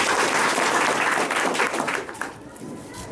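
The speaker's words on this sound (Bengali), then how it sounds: "জোরে একটা হাততালি" Children at a school gathering clap together in a burst of loud applause that fades out after a couple of seconds.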